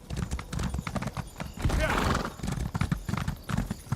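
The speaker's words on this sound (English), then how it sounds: "Ugh, this slow horse." Hooves clip-clop in a steady rhythm as a slow horse trots through a desert in an online fantasy video game, with a whinny midway and someone talking over it throughout.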